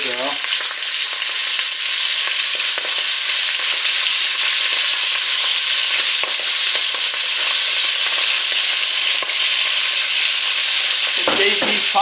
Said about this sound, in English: What I'm doing right now is just browning the meat